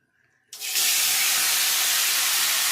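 Marinated chicken hitting hot mustard oil in a kadai, a sudden loud sizzle after a near-silent moment that stays steady and bright as frying hiss.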